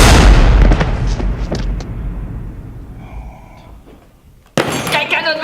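A shotgun blast opens loud and close, then trails off in a long rumbling decay before a second sharp, heavy report near the end, with people talking around the shots.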